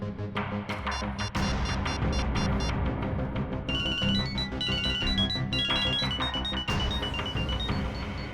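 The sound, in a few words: mobile phone ringtone ringing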